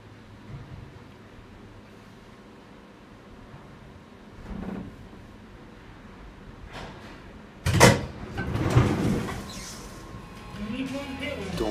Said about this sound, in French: La cabine prend son temps pour se stabiliser à quai avant d'ouvrir les portes.